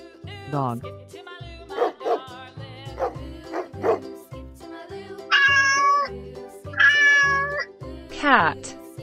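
A cartoon cat meows several times over a bouncy children's song with a steady thumping beat, close and clear, following dog barks and a spoken voice.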